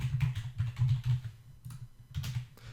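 Steady clicking keystrokes on a computer keyboard, close and fairly loud, in quick irregular clusters with short pauses, no voices.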